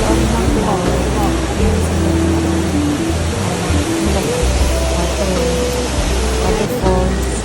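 An indoor waterfall inside a Singapore shopping mall roars with a steady, dense wash of falling water, with voices audible beneath it.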